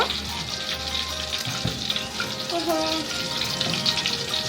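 Whole spices go into hot oil and ghee, setting off a busy, crackling sizzle that stays fairly loud and close throughout.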